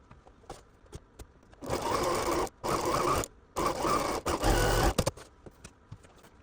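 A sewing machine stitching a quilt block runs in several short bursts of steady mechanical whirring, separated by brief pauses, fairly close and moderately loud in a quiet room.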